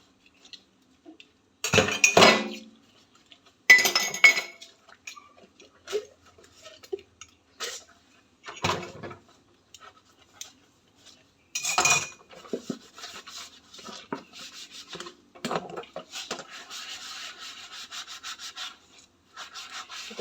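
Dishes being washed by hand with detergent powder in a home kitchen: intermittent scrubbing and rubbing bursts with light clinks of plates and cutlery, some loud close strokes and quieter scattered handling sounds between pauses.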